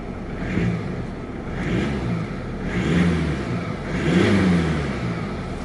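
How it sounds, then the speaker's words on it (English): The diesel engine of a 2016 Mercedes-Benz E220d revs repeatedly in a rhythmic rise and fall, about four surges, close and moderately loud over a rough rumbling idle. "And let me rev it again."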